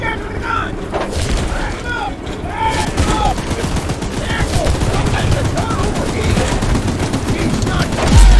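Rapid, sustained gunfire from the video game Choo Choo Charles, dense overlapping shots and booms that fill the whole stretch at close range, with shouting voices breaking through the barrage.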